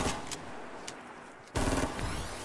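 Fortnite gunfire, quick automatic bursts of shots, loudest in a dense volley near the end, with faint game ambience between and no speech.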